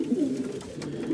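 Domestic pigeons cooing in a backyard aviary: a steady, low, throaty cooing that continues through the whole short moment, close and moderately loud, with no voices.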